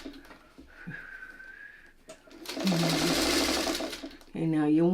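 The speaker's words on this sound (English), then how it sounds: "now let's get this sewn because we need that nested." A sewing machine stitching fabric whirs in a close, rapid mechanical burst lasting over a second, preceded by soft handling noises and a brief voice, with speech returning right after.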